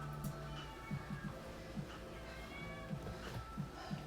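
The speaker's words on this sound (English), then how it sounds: "it's my cat. She's waking up upset." Pet cat meowing after waking up upset, a series of faint, short, plaintive meows repeating irregularly over a constant background hum, with no talk.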